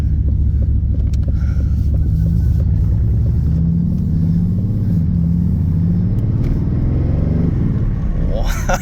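An Aston Martin V8 rumbles from inside the cabin while driving, a deep steady engine drone with shifting pitch and a rise near the end, with a voice talking over it.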